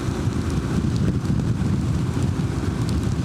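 Heavy wind buffets the microphone with a constant low roar, steady and rumbling throughout.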